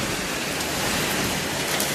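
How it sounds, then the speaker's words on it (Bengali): Heavy rain pours down steadily, a loud, continuous broadband wash with no gaps and no voices over it. "এই যে দেখো কত জোরে বৃষ্টি হচ্ছে"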